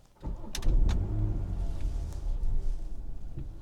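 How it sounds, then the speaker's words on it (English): A BMW 540i G30 cranks and fires up, its engine catching with a short burst and then settling into a steady, loud idle rumble close by. "Okay, let's just start the car."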